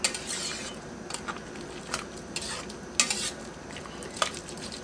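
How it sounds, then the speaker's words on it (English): Jasmine rice stirred in a pot of boiling water, a spoon scraping and clinking against the pot in irregular strokes over a steady bubbling hiss, close and fairly quiet, with no voices. "Give it a stir."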